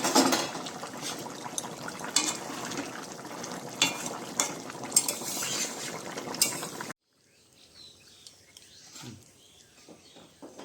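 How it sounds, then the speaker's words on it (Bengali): Taro being ground into a paste by hand, a close, rhythmic scraping and grinding that runs for several seconds, then stops abruptly, leaving faint room noise. "আমি এবার কচুটা বাটা করে নিই"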